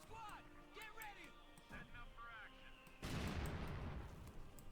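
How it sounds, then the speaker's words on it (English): Mortar fire in the strategy game Company of Heroes 2 erupts as a loud, sustained broadband boom about two-thirds of the way in, following a stretch of someone talking over game background noise. "Mortar firing away there."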